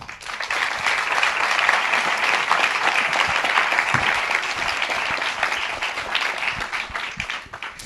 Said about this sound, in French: demande de bien vouloir applaudir chaudement Monsieur Jean-Marc Ancovici